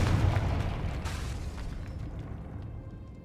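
The Confringo fire spell from Hogwarts Legacy erupts in a deep booming explosion that is loudest at the start, then rumbles and fades over about three seconds.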